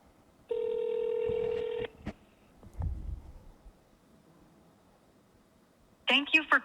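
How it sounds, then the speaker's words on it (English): Touch-tone dialing while a phone call is placed for a live demo of an automated call agent: a steady dual-tone beep for over a second, then short clicks and taps, ending with a brief burst of voice from the line. "I'm going to try to attempt a live demo by placing a call using my phone"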